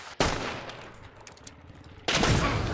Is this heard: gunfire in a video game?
yes